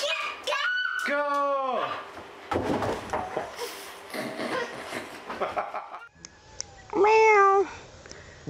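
A cat meows several times, drawn-out rising and falling cries, with people talking and moving around between the meows.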